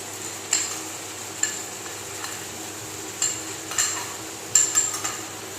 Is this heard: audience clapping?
no